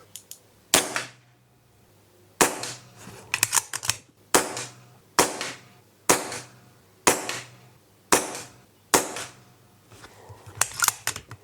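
Air rifle shots at a target, tethered setup, fired one at a time: about eight sharp, close cracks spaced a second or two apart, each ringing briefly before quiet, with no talk.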